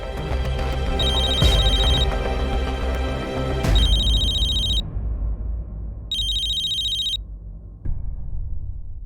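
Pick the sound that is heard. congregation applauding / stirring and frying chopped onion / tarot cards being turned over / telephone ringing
telephone ringing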